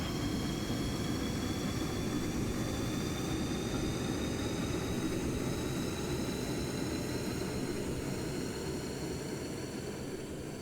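A jet engine spools up in the Stormworks: Build and Rescue game, a loud, steady roar with a high whine that holds for the whole stretch, no voices over it.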